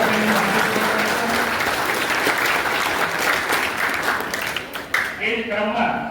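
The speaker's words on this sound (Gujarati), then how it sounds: "જોરદાર તાળીઓ આપણે" An audience at a Patidar community children's gathering in Dahegam claps loudly and steadily for several seconds, a dense burst of applause that thins near the end.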